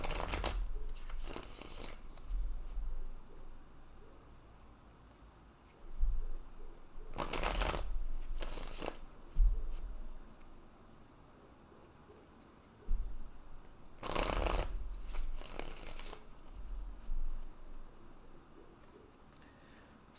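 Tarot cards shuffled by hand in long stretches of soft riffling and rustling, with sharper bursts of card snaps spaced every few seconds, close and moderately quiet with no talking.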